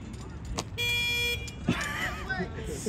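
A car horn blares in a sustained honk, followed by a brief burst of voices and clattering.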